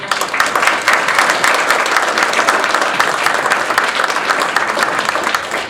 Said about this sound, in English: So would you please join me in a big round of applause for Jim?